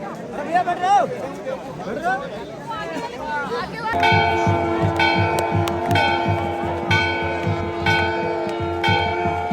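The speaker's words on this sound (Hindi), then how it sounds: "घंटी पे भी आ चुके हैं भाई पुजारी जी" A temple bell rings steadily and repeatedly during aarti at Kedarnath on opening day, loud and close, over the murmur of a crowd; people talk before the ringing begins.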